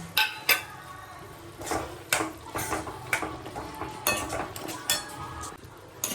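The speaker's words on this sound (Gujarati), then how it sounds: "હવે આપણે આ સ્ટેજ ઉપર કાજુ નાખી દઈશું અને મિક્સ કરી દઈશું" Cashews are stirred into karela (bitter gourd) curry in a pan, with a spoon scraping and clinking against the metal in irregular strokes over a faint background sizzle.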